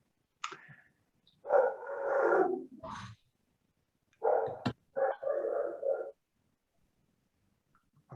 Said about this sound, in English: I'll wait for the dog to stop barking.